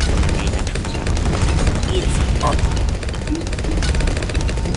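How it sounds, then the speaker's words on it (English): Rapid, unbroken weapon fire from a helicopter unit in the Bloons TD Battles 2 video game, dense and loud throughout with steady game noise layered underneath. "My helicopter takes care of it."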